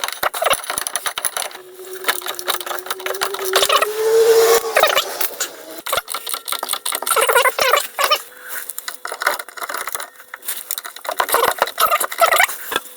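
Suspension bolts on an R50 MINI rear spring mount are worked loose with a 13mm socket on an extension bar, giving close, irregular clicking, scraping and creaking metal sounds in bursts, with no talking.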